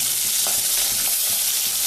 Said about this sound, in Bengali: কড়াই গরম হলে তারপরে তেল দিন, তারপর তেল গরম হলে মাছটা দিন।